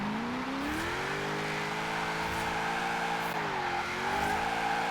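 A car drifts around corners in Forza Horizon 4: a loud, sustained engine note that rises and dips as the revs shift, with a rough tyre-scrub edge and no talking.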